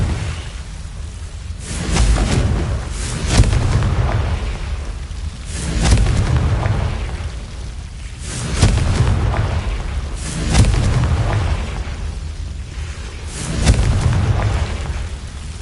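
Repeated blasts from the Confringo spell in the Hogwarts Legacy video game, heard as a series of heavy, booming explosions. Each blast swells and rolls away over a couple of seconds, about six in all, loud and close.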